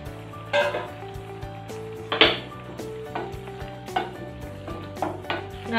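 Pakoda gravy bubbles and sizzles steadily in a pan, broken by occasional scrapes and clinks of a spoon stirring against the metal.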